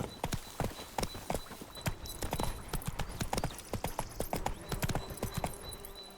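Horse hooves clip-clopping in The Witcher 3: Wild Hunt, a steady trotting rhythm of sharp hoof strikes throughout, close and clear with faint game ambience behind.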